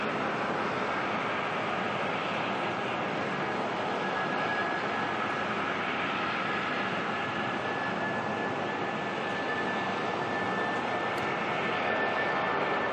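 Air New Zealand jet departing Auckland Airport at night, its engines producing a steady, broad roar with a sustained high whine throughout, fairly distant and unbroken, with no talk.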